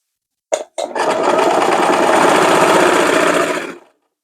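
A sewing machine stitching a fine lace design on the front of a sleeve, with two quick starts and then a steady, loud, rapid mechanical whir running for about three seconds before stopping, alone and close.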